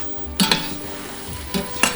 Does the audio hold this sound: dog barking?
no